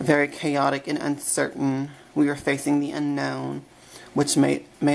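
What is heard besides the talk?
No everyday noise stands out behind the speech.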